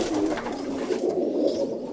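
Roller pigeons, a young red-and-white side bird among them, cooing steadily and close by in a loft, with soft continuous throaty murmurs running through the whole stretch.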